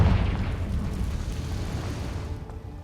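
The Confringo blasting spell in Hogwarts Legacy goes off as a loud, sustained explosive roar with a rumbling low end. It fades slowly over about three seconds.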